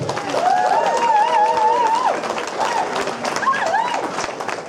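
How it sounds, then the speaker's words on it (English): An audience at a charity evening applauds and cheers a speaker's introduction, a dense wash of clapping with a voice calling out over the crowd. "give a big round of applause to Jason O'Neill"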